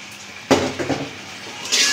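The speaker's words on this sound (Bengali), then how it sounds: "এখন আমি কচুরমুখিগুলো দিয়ে দিব" Taro roots drop into a pan of cooked spice paste with a sharp clatter, followed by a few softer knocks and scraping sounds against the metal pan.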